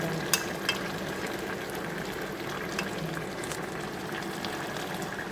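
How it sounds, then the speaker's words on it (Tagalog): Adobo ginataan, a Filipino dish in coconut milk, bubbling at a rolling boil in a pot, with a steady dense simmer and occasional sharper pops, heard alone and up close. "Ayan, kulong-kulo na yung ginataan natin mga kamare."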